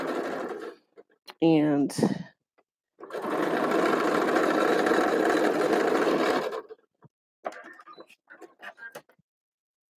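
A home sewing machine runs in a steady whirring stretch of stitching lasting a few seconds while sewing pajamas, close and clear, with brief talk and small clicks before and after it.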